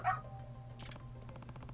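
A dog in the game Lost Judgment gives a few short barks and yips, moderately close, over a low steady background hum.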